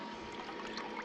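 Dishwater is dumped from a camp sink at an outback campsite, a faint, brief splashing pour at close range.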